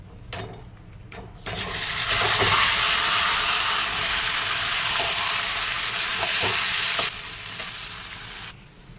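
Goat meat sizzles loudly in a pan with chopped onion, garlic and ginger. A strong, steady hiss swells up after a couple of light clinks, holds for several seconds, then drops back.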